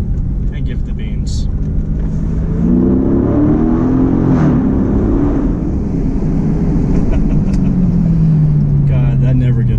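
A 2015 Dodge Charger R/T Scat Pack accelerates hard in second gear, its engine note climbing loud and close as it revs up and then settles lower, with a voice briefly over it.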